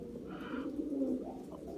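A domestic pigeon coos close by, a soft low throaty burble rising and falling over about two seconds against faint background noise.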